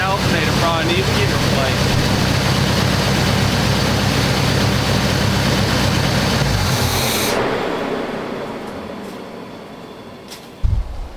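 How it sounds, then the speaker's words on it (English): A Squarebody 454 V8 runs loud and heavy with a broad roar for about seven seconds, then it is shut off and winds down to quiet, followed by a brief clunk near the end; a squeal is not clearly separable. "That squealing, that alternator probably needs to get"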